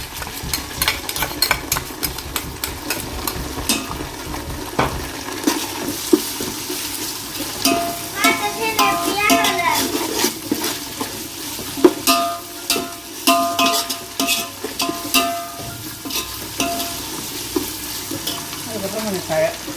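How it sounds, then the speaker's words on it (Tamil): Sliced onions sizzling and frying in a pan, a steady crackle with intermittent stirring and scraping clatter over about twenty seconds, while a person talks at times. "வெங்காயம் பாருங்க எந்த அளவு சூப்பராக வதங்கிட்டு இருக்குன்னு"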